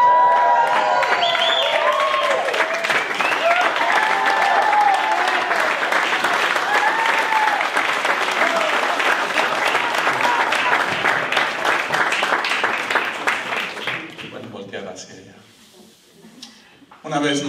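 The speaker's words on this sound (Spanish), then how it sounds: "Una vez más, un fuerte aplauso por este matrimonio." A crowd at a wedding claps for the newly married couple, sustained heavy applause with cheering voices and chatter mixed in, fading out near the end before a brief return of sound.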